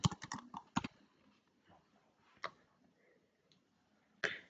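Quick clicking keystrokes on a computer keyboard, a short burst of close typing at the start followed by a few isolated taps, quiet and without speech.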